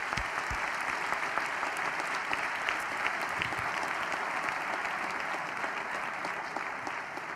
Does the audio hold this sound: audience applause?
yes